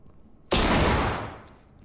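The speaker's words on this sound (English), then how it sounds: "Tactical shotgun." A single loud tactical shotgun blast in the tactical shooter game Ready Or Not, striking sharply and then fading off over about a second, with no talk around it.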